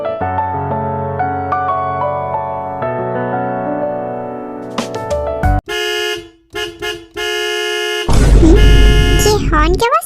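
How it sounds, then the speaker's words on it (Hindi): A car horn honks in a few sharp blasts, the last one long, cutting in over background music with no talk. "ये हॉर्न क्या बस?"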